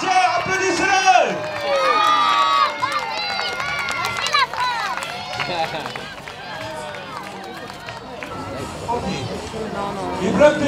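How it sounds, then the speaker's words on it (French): A crowd at a medieval festival jousting tournament cheers and whoops after a French team victory, loud shouts and scattered clapping mixed with lively babble and an announcer's voice. "Applaudissez-le."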